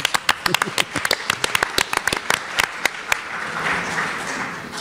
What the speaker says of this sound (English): All of us here should actually give you guys a round of applause